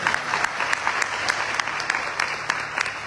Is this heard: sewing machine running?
no